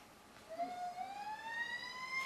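An emergency vehicle siren, police or ambulance, wails faintly in the distance, its tone sweeping steadily upward and repeating against a quiet background.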